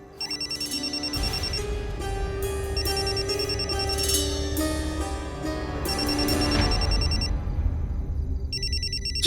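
A mobile phone rings from inside a bag: a repeating electronic ringtone in bursts of a few seconds with brief pauses between them, steady and moderately loud, ending with a short final burst.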